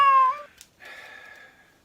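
A cat close by gives a loud, clear meow that falls in pitch. After a short tick comes a second, longer and quieter meow that fades out.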